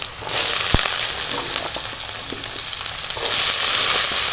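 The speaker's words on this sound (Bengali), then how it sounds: "এবার যে আলুগুলোকে আমি কেটে রেখেছি সেগুলো দিয়ে দেব" Chopped potatoes hit hot tempering oil for a vegetarian aloo bhindi, breaking into a loud, steady sizzle that softens slightly mid-way and swells again, with a brief knock of utensil near the start.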